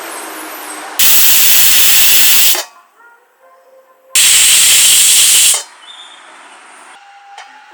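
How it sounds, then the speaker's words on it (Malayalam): A pressure cooker cooking green gram with water and spices vents steam in two loud, sustained hissing bursts of about one and a half seconds each, separated by a quieter pause with faint kitchen sounds. "നമുക്കിത് അടച്ചു വെച്ച് ഒരു മൂന്ന് ബിസിലടുപ്പിച്ച് വേവിച്ചെടുക്കാം"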